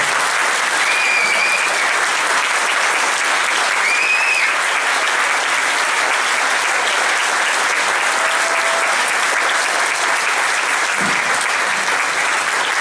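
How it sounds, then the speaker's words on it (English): A convention panel audience at DragonCon 2013 applauding for Lee Majors' panel, loud, continuous clapping from a large crowd with a few faint whistles and cheers, holding steady throughout. "Ladies and gentlemen, a round of applause for Mr. Nick Mason."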